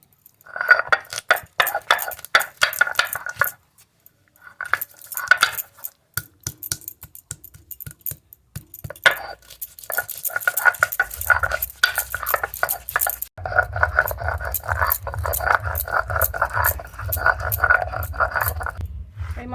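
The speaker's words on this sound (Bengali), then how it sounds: "এখানে কাঠবাদাম আর বাদাম আছে একসঙ্গে বেটে নেব" Almonds and peanuts being ground by hand on a stone shil, with repeated scraping and clinking strokes in uneven bursts, close and fairly loud, and a low steady rumble joining in the later part.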